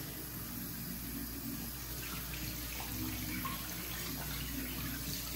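Tap water runs steadily into a sink while hands are washed during a face-washing routine, a continuous close splashing hiss with no talk.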